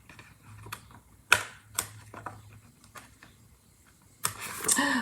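Scissors snip scrap paper into pieces for a creative journal, making a handful of crisp, separate clicks and cuts with quiet pauses between them, close up and with no talk.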